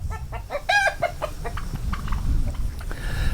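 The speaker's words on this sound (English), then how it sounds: "She's also keeping the turkeys away from the rooster, so Xena, good girl" Chickens cluck and squawk in a busy run of calls, with a rooster's higher cries mixed in over steady farmyard background noise.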